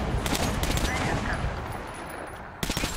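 Rapid automatic gunfire from combat in the video game Metro Last Light Redux, loud, dense bursts filling most of the stretch, easing briefly before another sharp volley near the end.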